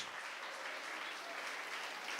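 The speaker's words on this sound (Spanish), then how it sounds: "Dale un aplauso fuerte al Señor esta noche." A church congregation claps steadily, a dense, continuous patter of many hands at moderate loudness.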